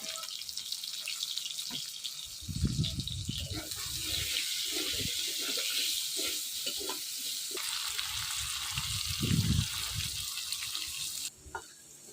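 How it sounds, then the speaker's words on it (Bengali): Potatoes fry in oil for Bengali wedding-style aloo bhaja, a dense, loud crackling sizzle throughout, with bursts of stirring and scraping and some running water in the background. "আলুটা কত সুন্দর পুরো লাল লাল করে ভেজে নিচ্ছি"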